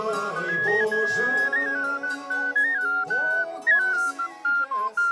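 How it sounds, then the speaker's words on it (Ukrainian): Ukrainian folk children's toy whistles, svyshchyky, play a trilling, warbling melody with sliding pitches, apparently alongside singing or other instruments in a lively village folk performance, loud and continuous. "сопілка грала чи що? Ні, це свищики."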